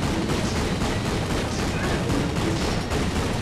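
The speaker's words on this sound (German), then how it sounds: "Also erstmal hier alles davon draufballern." Rapid weapon fire hammers at a tank in the game Ratchet & Clank: Q-Force, a dense unbroken barrage of shots and blasts with no voices.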